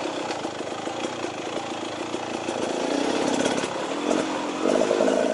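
A 2018 Beta Xtrainer 300 dirt bike engine runs on a trail, a steady buzzing drone that rises and swells slightly toward the end, close and fairly loud with no talking.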